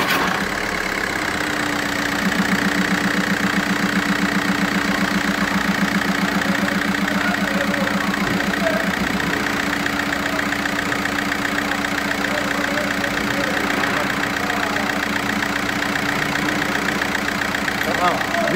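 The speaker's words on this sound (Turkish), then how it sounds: "Araca marş yapıyoruz." A Volkswagen Caddy engine cranks and catches after an oil service, then settles into a steady, close idle with an even mechanical clatter that runs throughout.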